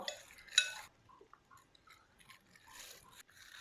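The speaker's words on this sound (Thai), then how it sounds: "แล้วก็คนส่วนผสมนี้" Faint scraping and clinking of a utensil stirring a seasoning mixture with light soy sauce in a bowl for grilled catfish, a few soft scattered strokes near a quiet room.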